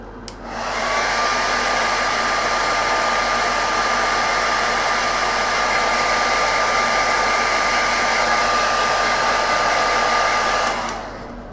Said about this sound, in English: I'm just going to hairdryer this guy for the moment.